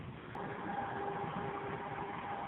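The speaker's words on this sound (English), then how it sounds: "And I hear the metro horn." A faint, steady metro train horn sounds in the distance over a continuous rumble of rail noise.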